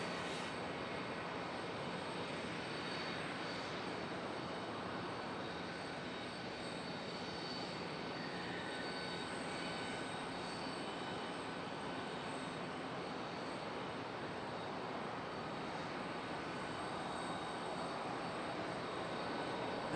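Airliner arriving at Charlotte Douglas International Airport, a steady broadband engine roar that holds at an even level for the whole stretch, sounding fairly distant with no talking over it.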